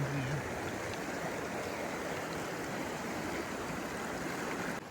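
River water rushes beneath stones near a waterfall on the Chandratal river in the Himachal mountains, a loud, steady broadband roar that fills the whole stretch with no breaks.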